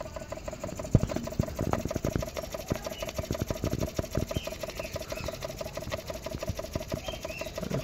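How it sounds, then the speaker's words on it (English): A Jensen 75 toy steam engine drives a small rocker engine at very slow speed, giving a steady stream of rapid mechanical clicks and light knocks over a faint hum, close up and without talk. "Jensen 75, running the little rocker engine"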